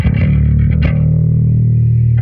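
Bass pickup signal fed through an octave-down pedal with the guitar strings muted, giving a thick, steady low droning tone with a few brief picked attacks early on, sustained loudly until a sudden stop.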